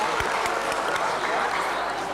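Audience at a Malaysian property investment panel discussion gives a sustained round of applause, a loud, dense clapping that fills the room throughout.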